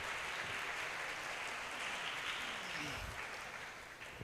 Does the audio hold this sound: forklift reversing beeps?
no